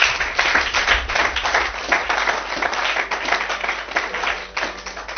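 A church congregation applauds during a Sunday service, the dense clapping loud and sustained for several seconds with no pause.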